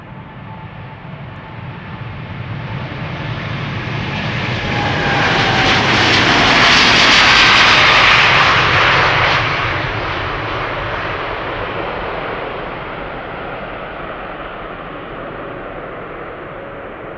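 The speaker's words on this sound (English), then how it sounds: "You can also hear that the Dreamliner is coming this way." A Boeing 787 Dreamliner jet on a KLM flight to Panama City approaches at Amsterdam Schiphol Airport, its steady roar swelling to a loud peak midway and then easing off, heard alone without voices.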